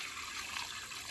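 Water poured from a vessel onto a newly planted plant in a home garden, a steady, soft splashing rush, quiet and continuous throughout.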